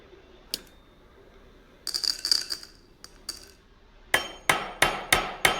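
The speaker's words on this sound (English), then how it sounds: "So I've flattened the overlapping ends of the ring, and I've pierced a hole through it." A hammer strikes the overlapped ends of a small wire mail ring to flatten them, a run of bright metallic taps, first scattered and then a steady series of five or six sharp blows.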